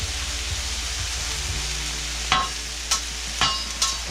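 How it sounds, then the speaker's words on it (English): Kabobs cooking in a pan sizzle steadily while being stirred, with a few sharp utensil scrapes and clinks near the end. "Go ahead and give it a stir up a little bit, even it up."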